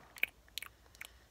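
Crisp bites and crunchy chewing on fresh cut vegetables, three quick crunch bursts close up within a second or so, with no talk.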